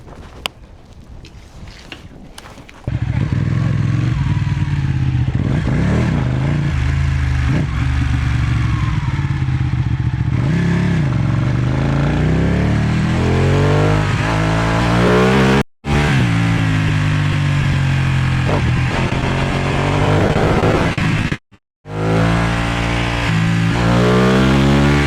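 A Ducati motorcycle engine starts after a brief mechanical click, then idles and revs loudly in close range with rising and falling pitch, cutting out briefly twice before catching again.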